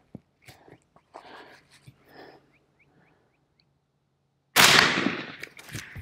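A single sharp rifle shot of 7.62x51 NATO ball from a Smith & Wesson M&P 10, fired at a composite armor plate. It rings out loud with a decaying tail after a stretch of quiet, faint murmuring.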